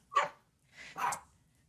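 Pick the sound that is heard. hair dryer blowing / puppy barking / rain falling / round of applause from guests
puppy barking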